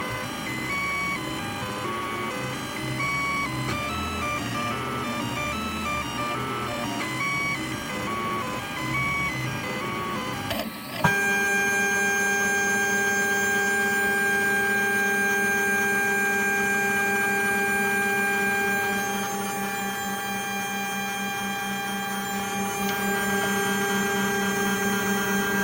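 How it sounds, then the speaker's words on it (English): A 3D printer finishes printing a bright orange or yellow plastic bushing for an antique record player repair, its stepper motors whirring in steady tonal whines that shift abruptly to a louder, more sustained hum midway. "Printer is nearly finished with the bushing."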